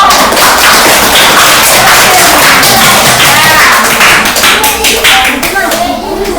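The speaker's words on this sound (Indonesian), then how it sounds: "tepuk tangan dulu" A classroom of students claps hands together on a teacher's prompt, loud and close, with a busy mix of slaps and taps and voices talking over it before it trails off.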